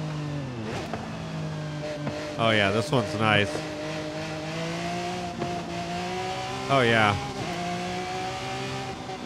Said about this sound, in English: And you can hear those fucking backfires.